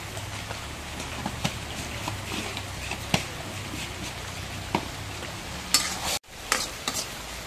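Spice paste with garlic paste and salt is stir-fried in a pan, giving a soft continuous sizzle. A spatula scrapes and taps in irregular strokes, close by.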